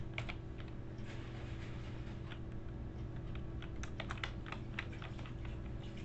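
Rapid, irregular clicking of a computer keyboard as a cover letter is typed, fairly quiet and close against a low steady room hum, without speech.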